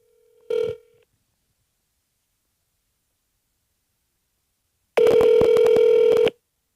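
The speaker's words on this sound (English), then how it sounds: "go ahead and call that number, put it on speakerphone." DTMF keypad tones sound as a phone dials a number on speakerphone: one short tone burst, a long pause, then a loud, dense run of rapid beeps for about a second and a half.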